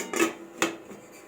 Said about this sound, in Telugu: పెట్టిన తర్వాత ఇది మూతేసేయాలి.